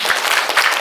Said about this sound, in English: So please give big round of applause for all panelists.